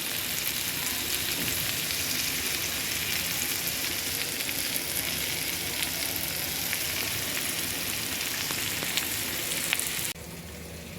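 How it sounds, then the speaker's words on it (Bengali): Boal fish frying in a pan of cooked-down spices for curry, a loud, continuous close sizzle with faint stirring clicks, dropping quieter near the end, no talking. "আমি মাছটা ছেড়ে দিয়েছি, মশলাটা কষানো হয়ে গেছে, পরে মাছটা ছেড়ে দিলাম। মাছটা কষবে"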